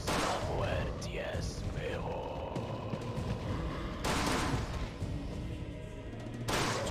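Bursts of Resident Evil 4 gunfire crackle and thump in quick volleys, with a voice talking over parts of the action.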